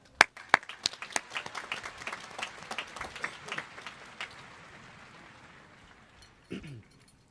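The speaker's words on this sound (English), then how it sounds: "And for that alone, give yourselves a round of applause." A high school graduation crowd applauds, with sharp claps at first that swell into dense clapping and fade out after several seconds, ending in a brief microphone bump.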